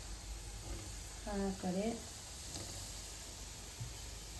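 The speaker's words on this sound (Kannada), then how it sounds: "ಈ ಕಡೆ ಇದನ್ನು ಎಣ್ಣೆಯಲ್ಲಿ ಡೀಪ್ ಫ್ರೈ ಮಾಡ್ತಾಯಿದ್ದೀನಿ" Gulab jamun deep fry in hot oil over a low flame, giving off a steady, soft sizzling hiss throughout. A voice speaks briefly over the frying.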